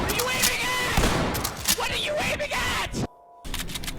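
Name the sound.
shotgun fire in the video game Ready or Not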